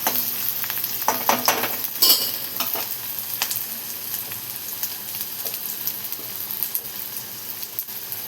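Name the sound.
onion frying in a pan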